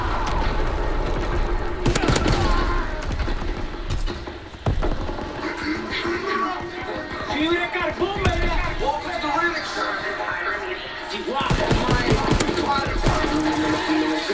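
Rapid gunfire from Call of Duty WWII fills the stretch in dense, continuous bursts with sharp cracks throughout, loud and close, mixed with a player talking excitedly over it.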